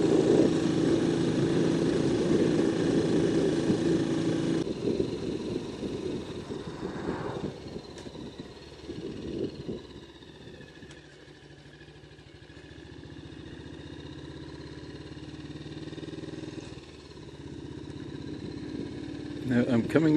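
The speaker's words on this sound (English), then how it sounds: "I just love the noise of a C15 as it climbs a hill." A BSA C15 motorcycle climbing a hill on a country run, its engine droning steadily close by with wind rush, the note shifting partway through, while a rider talks over it.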